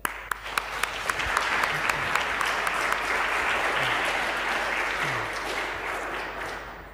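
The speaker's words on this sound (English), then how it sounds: "So please join me in welcoming Professor Terrence Deacon today." A lecture audience bursts into sustained, even applause to welcome a university professor. A few sharp early claps build into a dense wash of clapping that holds steady and slowly fades, with no talking over it.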